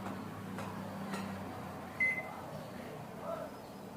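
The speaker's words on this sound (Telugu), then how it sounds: "ఓవెన్ ఆన్ చేసినాం" An oven used for baking cake is switched on, giving a low hum followed by a single short electronic beep, quiet in a still kitchen.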